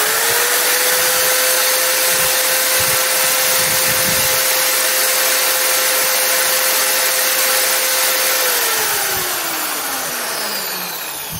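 A Yasuka electric wall drill runs unloaded at top speed, giving a loud, steady high-pitched whine that holds constant, then winds down as the motor slows near the end.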